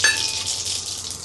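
Cumin seeds hit hot oil in a pan and sizzle loudly at once, settling into a steady crackling fry for misal tadka.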